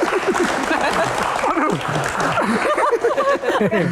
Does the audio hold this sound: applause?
yes